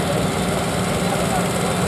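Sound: two-cylinder tractor engine running

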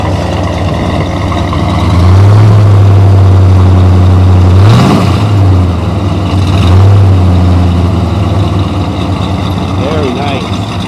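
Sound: car exhaust rumbling at idle

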